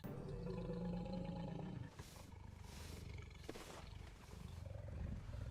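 A pride of African lions roaring in the wild: a series of deep, rumbling roars in pulsing bursts, loud and fairly close, over a constant outdoor background.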